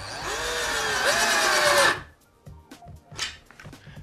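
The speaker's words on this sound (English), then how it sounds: "by using a cordless screwdriver, get in position with the screw, hold it to the mark on the skirting board" A cordless screwdriver drives a screw into a skirting board while fitting a doorstop base plate, a loud whirring motor rising in pitch for about two seconds, then stopping, followed by a few light knocks and handling sounds.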